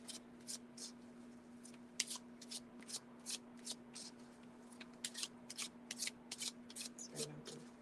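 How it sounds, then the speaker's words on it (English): Tarot cards being shuffled by hand, with repeated crisp riffling bursts in an irregular rhythm, close and fairly quiet against a steady low hum. "So I am shuffling and asking if there was a member"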